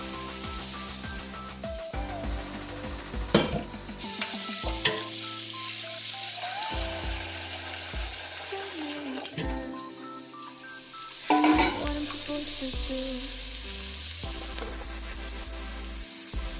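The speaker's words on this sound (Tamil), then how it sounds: "இப்போ இந்த கேரட்டும் கத்திரிக்காயும் நல்லா எண்ணெயில் வதக்குறேன், தாளித்து எண்ணெயில் வதக்குறேன் பாருங்கள்." Chopped carrot and eggplant sautéing in hot oil with tempering spices for sambar, a steady sizzle and crackle broken by several louder bursts of stirring and scraping in the pan, with no voices.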